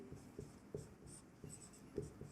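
A pen writes out a maths equation during a Hindi class on quadratic equations, making faint, close scratchy strokes and soft taps in an irregular rhythm, with no voice over them.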